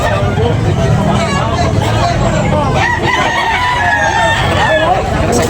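Roosters crow repeatedly over a loud, busy crowd at a chicken market in Tabunok, Talisay, with clucking chickens and chattering voices filling the background throughout.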